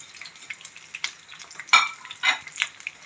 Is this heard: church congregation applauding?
no